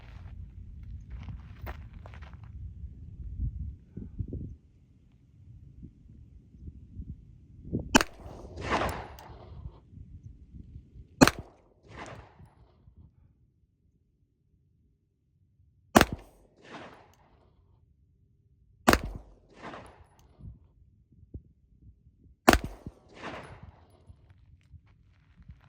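Sharp single pistol shots from a Noveske Glock, fired slowly with pauses of several seconds between each report, loud and close, with quieter handling and footstep noise in the first part.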